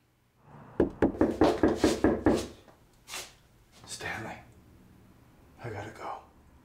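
Knocking on a door in a horror thriller: a rapid run of about half a dozen sharp knocks, followed by hushed, whispered voices and a few quieter sounds.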